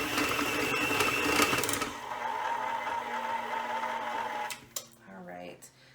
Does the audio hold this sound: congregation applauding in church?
no